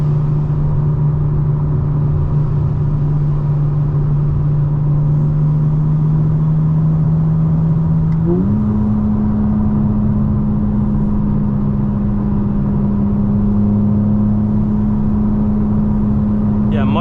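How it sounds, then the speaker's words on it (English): A 2025 BMW M4 (G82) is heard from inside the cabin with the windows up. A steady, low exhaust drone holds for the whole stretch, stepping slightly higher in pitch about halfway through. "Yeah, that is the real exhaust."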